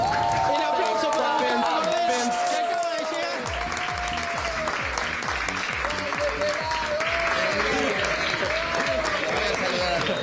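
Studio crew welcome a singer with lively, sustained clapping and cheering, while excited voices and background music run beneath the applause.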